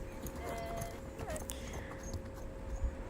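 A horse on the lunge line during a warm-up before pole work, hooves thudding in a loose trotting rhythm over soft ground, mid-distance and fairly quiet, with faint snorts and background noise.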